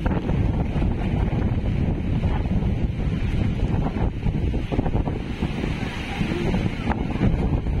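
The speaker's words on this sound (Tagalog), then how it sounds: "Malakas na ng hangin." Strong typhoon wind roars by the sea at Dinahican, Infanta, Quezon during Super Typhoon Pepito, a continuous loud buffeting rush with microphone wind noise and surf churning beneath it, no pauses throughout.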